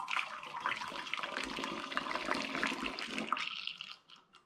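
Home-brewed tea for apple and berry hard cider pours through a funnel in a steady close trickle and splash, then tapers off near the end.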